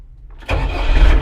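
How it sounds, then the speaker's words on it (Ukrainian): A KENTAVR 404 garden tractor engine cranks briefly and catches, starting up and settling into a loud, close running rumble. "Запускаємо тракторець,"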